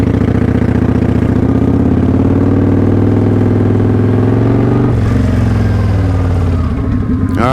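A motorcycle idles loudly and close by, then revs and pulls away in first gear from a stop sign, its engine note rising and shifting toward the end, with no talking.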